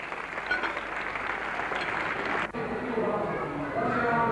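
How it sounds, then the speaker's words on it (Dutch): Crowd applause at a 1985 strongman contest in Friesland, a steady mass of clapping from the audience that briefly breaks off, then resumes with a commentator talking over it. "Geef hem een applaus."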